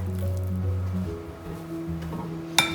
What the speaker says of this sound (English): I have added half cup of water. So let's mix it.